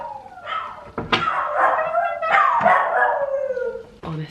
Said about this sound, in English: they are hounds, and I love it when they howl